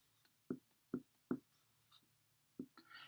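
Marker or pen strokes on a board while working through a trigonometry proof, a few short scratchy bursts spaced apart with quiet gaps between them, close and fairly faint, with no talking.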